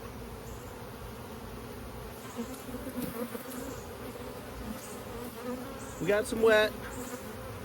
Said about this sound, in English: I mean, y'all, just look at the bees. There's so many.